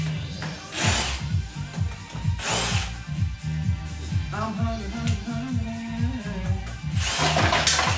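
A power tool gun spins out fasteners while the seat is removed from a Talaria Sting electric dirt bike, in repeated short whirring bursts with pitch sweeps and clicks at close range.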